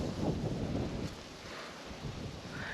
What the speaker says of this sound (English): This entire day the wind was blowing.